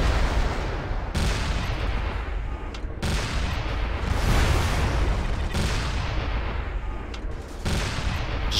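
Cannons fire in rapid succession in the MechWarrior Living Legends video game, loud booming volleys with sharp onsets roughly every second or two over a dense, continuous roar of battle noise.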